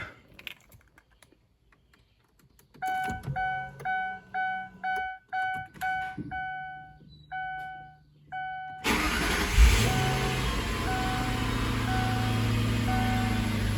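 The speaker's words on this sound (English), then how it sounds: "now I've got the engine running here, and I'm just gonna let the engine idle here for about a minute" A 2002-2005 Ford Thunderbird engine starts and settles into a steady idle after a run of repeated chime tones and a quiet stretch, close and continuous with no talking.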